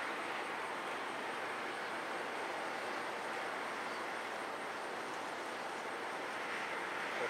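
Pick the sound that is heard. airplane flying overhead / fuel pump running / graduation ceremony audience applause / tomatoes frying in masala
airplane flying overhead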